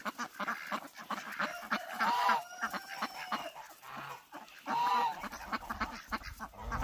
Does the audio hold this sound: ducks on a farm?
yes